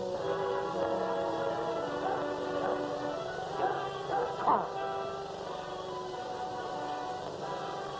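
A tracking dog out on the trail gives intermittent yips, whimpers and short barks, moderately distant, over a steady tonal background.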